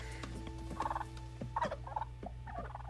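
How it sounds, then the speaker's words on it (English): A turkey gobbles in several bursts of warbling calls over a low steady background, clear and fairly close, with no talking over it. "Why is there a turkey?"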